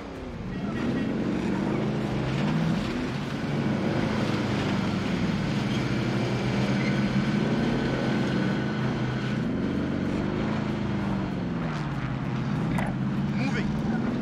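A vehicle in Call of Duty gives a steady, loud engine drone that rises and falls with changes in speed and continues without a break, while players talk over it.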